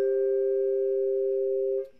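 A single mallet strike on a tuned percussion bar rings out as a clear, sustained pure tone, held evenly for nearly two seconds before quickly fading.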